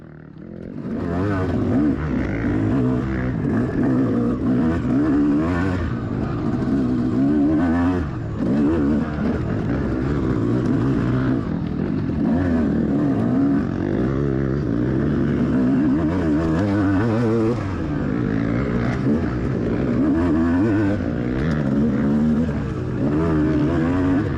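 A dirt bike revving hard and powering through deep trail ruts at a Cajun Classic enduro, its engine loud and continuous with repeated throttle surges and pitch changes over about twenty seconds.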